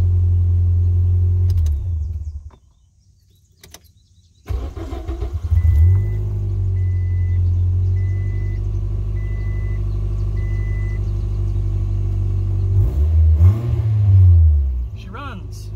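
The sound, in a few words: 2005 Scion xB engine running after fuel pump replacement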